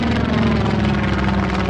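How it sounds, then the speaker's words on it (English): A propeller plane drones loudly and steadily at close range, a dense continuous engine roar with a throbbing low hum and no voices. "propeller planes,"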